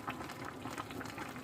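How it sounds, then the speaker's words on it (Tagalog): Eggplant soup in water bubbles in a pot on the stove, a faint continuous simmering burble with small irregular pops. "Pakuluan na natin to."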